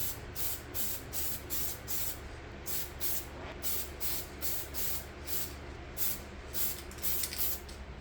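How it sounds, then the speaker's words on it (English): Short bursts from a Tamiya PS2 rattle spray can, evenly repeated hissing passes close by at moderate level, with no talking. "This is all rattle can here. Tamiya PS2 color."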